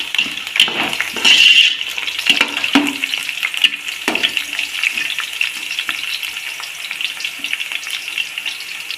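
Onions sautéing in a pan for mutton biryani give a steady, close sizzle and crackle throughout, with occasional scrapes and stirring clatter of a utensil against the pan, no talking.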